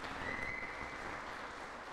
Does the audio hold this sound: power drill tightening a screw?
no